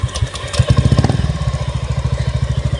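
A motorcycle engine catches and settles into a steady, rapid idle thump, loud and close, with no talk over it.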